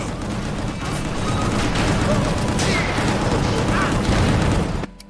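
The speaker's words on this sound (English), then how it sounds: "are you guys hearing the explosions as well?" Explosions and gunfire from the action game Gungrave GORE form a dense, loud, continuous barrage of booms and crackling blasts that cuts off abruptly near the end.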